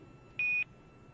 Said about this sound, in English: those beeps are Quindar tones, and that is the core or the crew operations resource engineer communicating to the astronauts